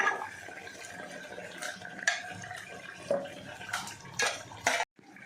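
Mutton goes into fried masala and oil in a home kitchen pot, with metallic clinks and scrapes of a spoon against the pot, light wet sizzling and a few scattered clatters, close and fairly quiet.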